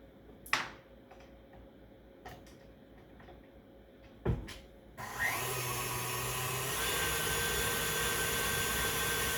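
An electric stand mixer starts up after a few sharp clicks and knocks, then runs on high as a steady loud whir, beating powdered sugar into lemon cupcake frosting with no talking over it.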